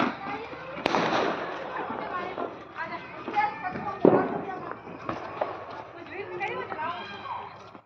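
A firecracker bursts under a bucket outdoors during Diwali, with a sharp bang followed by clattering and scuffing, and a second loud pop a few seconds later, while people talk and shout throughout.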